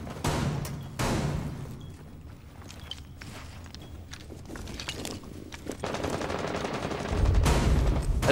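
Gunfire rings out in a Rainbow Six Siege match: a few sharp shots spaced apart, one early pair and a heavier burst near the end, over a dull rumbling game background.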